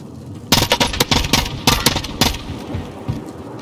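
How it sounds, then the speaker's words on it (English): Call of Duty Warzone battle royale gunfire rings out in rapid bursts of sharp shots, loud and close, with short pauses between volleys and no voices. "We must stand at one place and just shoot and shoot and shoot and shoot."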